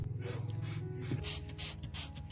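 A hand spray bottle mists nutrient solution onto orchid leaves in a series of soft, quick hissing bursts, close and fairly quiet.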